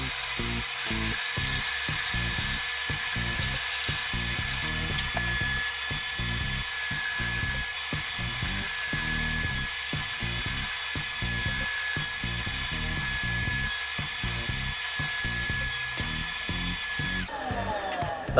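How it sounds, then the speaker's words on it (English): A steady high-pitched whine of a spinning lathe with abrasive sanding of a scrap plywood bowl, continuous and close, with a rhythmic low thumping underneath throughout. "just let me finish off my sanding"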